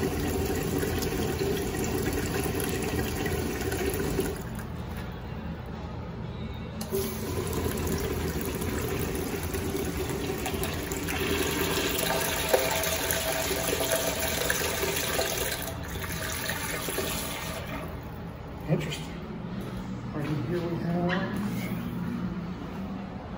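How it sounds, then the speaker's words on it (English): An American Standard pressure-assist toilet in a store restroom flushes with a loud, forceful rushing of water that runs for many seconds, followed by refilling gurgles in a reverberant room. "Pressure assist flush"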